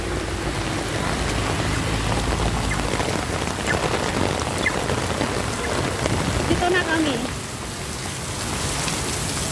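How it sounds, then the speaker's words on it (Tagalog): Heavy rain pours steadily on a street in a dense, hissing roar, with a brief voice speaking through it partway along. "Grabe, ang lakas ng ulan."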